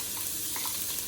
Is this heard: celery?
yes